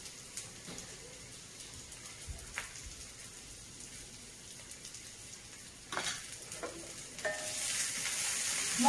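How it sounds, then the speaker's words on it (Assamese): Onion and garlic fry gently in oil with a soft, low sizzle, broken by occasional stirring clinks. The frying grows louder and denser toward the end. "এয়া পিঁয়াজ আৰু নহৰুখিনি মই ধুনীয়াকৈ অকণমান ভাজিছোঁ"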